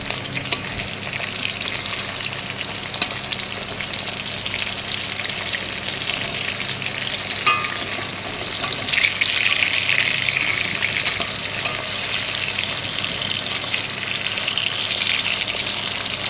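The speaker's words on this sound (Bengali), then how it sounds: "তো এক এক করে এরকম মাছগুলি ভেজে নেব।" Pieces of rohu fish fry steadily in hot oil with a continuous close sizzle, and a few faint clicks of the pieces being turned come through partway. Nobody speaks.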